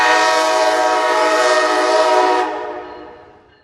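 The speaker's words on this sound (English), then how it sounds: "Do you hear that whistle down the line?" A locomotive whistle sounds down the line in one long, loud, steady blast that stops abruptly and leaves a fading echo.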